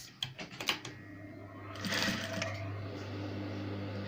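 A sewing machine stitches a puff sleeve seam from the armhole, starting with a few sharp clicks before settling into a steady mechanical hum, close and fairly quiet.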